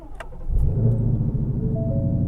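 A 2020 Ford Shelby GT500 engine cranks briefly on its start button and catches, settling into a steady, deep idle close by.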